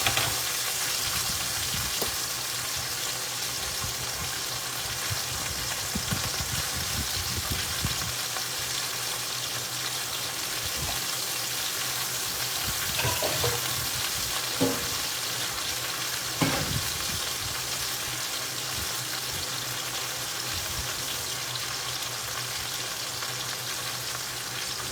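Chicken and shrimp fry in a pan for a chicken alfredo, giving a steady close sizzle and crackle throughout, with a few soft stirring clinks partway through.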